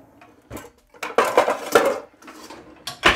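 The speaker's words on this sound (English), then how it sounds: "Before we do that, we're gonna get our pan on." Metal cookware clanks and scrapes in a few quick bursts, a pan being set down and shifted on a hob, close by with no talk.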